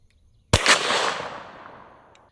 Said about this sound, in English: now same ammunition, but out of the super duper long slide Glock 10mm